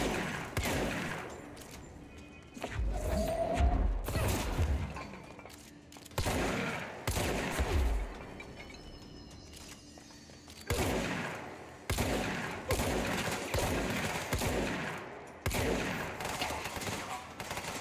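Gunfire in the game Control: repeated loud bursts of shots in clusters, each volley sharp and full-bodied with short gaps between, ringing through an indoor space over steady background noise.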